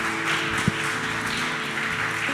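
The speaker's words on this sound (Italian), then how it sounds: "Facciamo un applauso al Signore." Congregation clapping during a New Year's Eve church service at Chiesa ADM in Verona, a steady wash of many hands over a sustained organ or keyboard chord, one sharper tap near the start.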